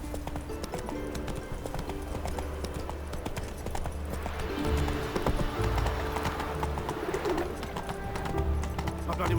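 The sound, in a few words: horse galloping on hooves in The Witcher 3 video game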